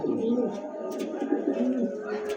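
A single female Roman pigeon gives a close, low, rolling coo that runs almost unbroken for a couple of seconds before stopping abruptly.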